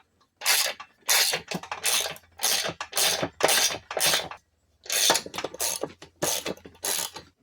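A ratchet wrench loosening 3/8 screws on a riding mower deck spindle, about a dozen quick bursts of rapid clicking, each roughly half a second long with short pauses between, close and loud with no talk.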